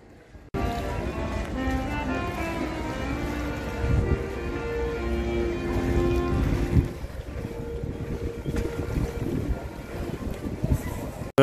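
A gondola gliding on the canals of Venice near St. Mark's Square, with steady water wash and wind noise running continuously, plus faint bits of talk and ambient tones over the drifting boat sound.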